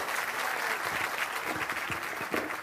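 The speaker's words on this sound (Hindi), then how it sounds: "अब एक बार प्रशांत किशोर जी के लिए जोरदार ताली बजाइए" A rally crowd at Lajpat Park ground in Bhagalpur applauding Prashant Kishor, with a dense, steady wash of clapping throughout, loud and sustained.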